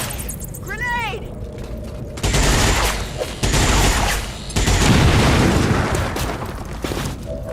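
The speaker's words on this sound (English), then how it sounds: "Grenade!" Grenade blasts and gunfire in a heavily modded XCOM game: a whistling tone, then several loud, booming, rumbling explosions and bursts of fire crowding one another over a steady background.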